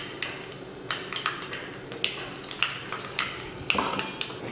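Mustard and fenugreek seeds spluttering in hot oil in a kadai while tempering for a kulambu; close, irregular sharp pops and crackles burst out in quick clusters, with no voices.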